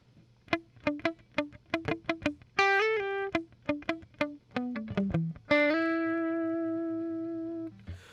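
Electric guitar plays a funky minor pentatonic lick: a run of short, choppy palm-muted plucks, then sustained ringing notes and a final held chord fading out.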